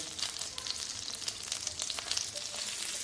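Dosa batter cooks on a hot pan with a steady, soft sizzle and crackle that continues evenly throughout, close and fairly quiet.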